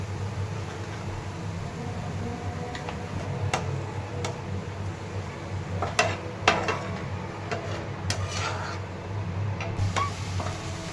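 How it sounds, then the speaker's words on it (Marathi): Ginger and garlic sautéing with vegetables in a pan for Indian pav bhaji, giving a steady low sizzle with scattered light ticks and clicks of stirring throughout, no talk. "अद्रक लसूण हे टाकलेलं आहे आता हे छान परतून घेते"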